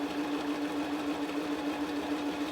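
A sewing machine runs steadily, stitching a reversible tote bag, its close even motor whir humming without pause through the whole stretch and no voices over it.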